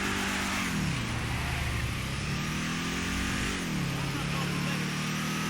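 Declasse Tahoma muscle car, a 1980 Chevy Monte Carlo style car in a video game, on a test drive: a steady engine drone that climbs and drops with two gear shifts, loud and constant.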